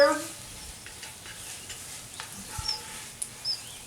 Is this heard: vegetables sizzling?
yes